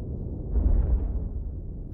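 A low, rumbling explosion in the video game Marauders, a single muffled boom that swells and fades out, heard at a distance with no voices.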